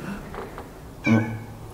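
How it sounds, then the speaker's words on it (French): A black cat gives a single short meow close by, preceded by faint murmuring voices and quiet background noise. "C'est un chat noir."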